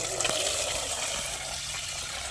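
Water pouring steadily, a continuous close splashing gush that holds at a fairly even level throughout.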